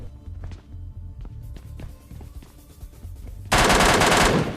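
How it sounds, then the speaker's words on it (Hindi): Rapid bursts of video game gunfire, near and loud, with scattered single shots early on, then a sustained dense volley of automatic fire at the end. "अब मैंने इस पे इतनी ज्यादा गोली चला ली, इतनी ज्यादा"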